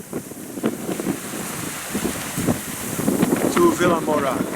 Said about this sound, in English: The wind picked up like predicted.